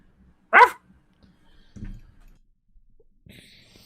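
A person imitates a dog with one short, sharp woof, followed by faint thumps and quiet room noise.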